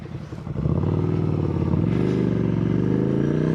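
A Honda Africa Twin motorcycle pulls away under acceleration, its engine note rising and building into a loud, throaty drone heard close up while riding.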